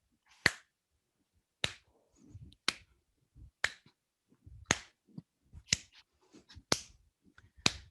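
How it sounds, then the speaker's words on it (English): Sharp hand claps during a pow wow dance lesson, about nine crisp single claps spaced roughly a second apart in a steady beat, close and clear, with faint movement sounds in between. "So we're going to start off by clapping our hands."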